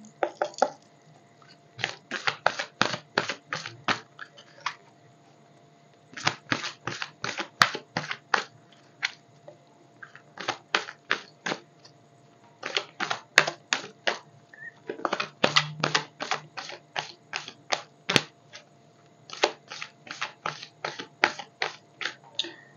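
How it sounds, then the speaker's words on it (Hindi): Tarot cards are shuffled close by in a quiet room, giving repeated runs of crisp rapid riffling flicks in bursts, with short pauses between them and no talking. "2-3 बार कार्ड्स सारे शफल होंगे"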